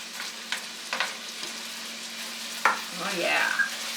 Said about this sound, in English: as the meat cooks, the fat renders, so then you get the fat and the butter and the bacon grease